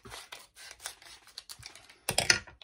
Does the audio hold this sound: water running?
no